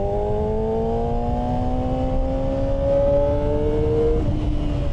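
A 2025 Honda CBR600RR with a 600cc engine and underseat exhaust runs steadily close by. Its engine holds a smooth, sustained tone that gradually rises in pitch, heard alone without talking.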